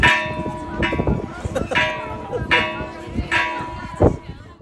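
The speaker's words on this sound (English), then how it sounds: "Ringing the bell." A bell rings repeatedly in a steady rhythm, bright and resonant, with voices chattering underneath.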